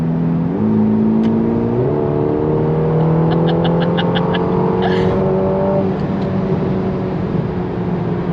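A Ferrari Roma accelerating hard through its gears, the engine note climbing in steady rising sweeps with a brief pause at each upshift, loud and close from inside the car.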